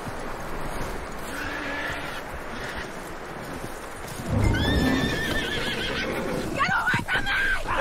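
In the video game Red Dead Redemption 2, a horse whinnies loudly near the end, with hoof clops and movement sounds earlier and voices talking in the background.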